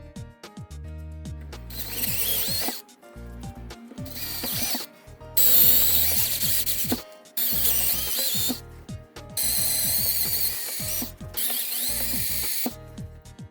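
A power drill with a woodworking bit whirs in several bursts, grinding and ratcheting through hard acrylic with brief pauses between runs, close and loud.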